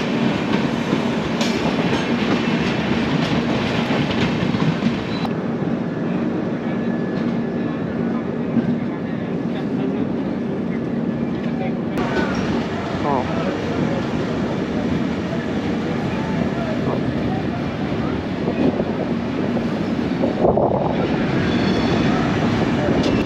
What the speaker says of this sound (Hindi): देखिए Awadh Assam express up and down का मिलन होते हुए सिमलगुड़ी जंक्शन में।